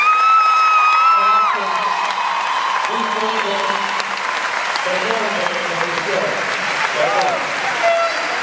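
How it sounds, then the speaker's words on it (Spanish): Festival crowd applauding and cheering at an outdoor music show, dense clapping with whoops and a horn-like tone early on, while voices talk loosely over the noise. "que se den el aplauso para los chicos"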